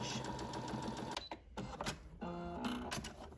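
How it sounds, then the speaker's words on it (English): A sewing machine back stitching fabric for a scrub top, giving a close, steady mechanical whir that pauses briefly and then starts again with a humming tone. "I'm just going to back stitch."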